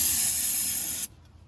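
Aerosol spray hisses steadily into the carburetor choke of a 1955 Chevy, one continuous close burst of about a second that stops abruptly, followed by quiet.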